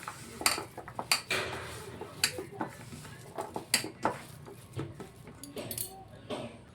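Chicken cutlet mixture mixed with a spoon in a bowl, a run of close metallic clinks and scrapes in an uneven rhythm, moderately loud with no talk.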